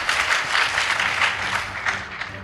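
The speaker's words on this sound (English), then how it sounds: "Please give them a round of applause." Applause rolls through a hall for the winning Anester Boys High School debate team, a steady wash of many hands clapping that fades slightly toward the end.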